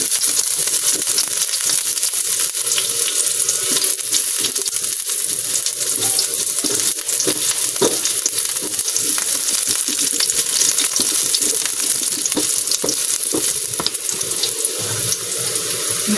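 Onion and garlic frying in a pan make a loud, constant rushing sizzle close by, steady for the whole stretch with faint stirring clicks and no talk.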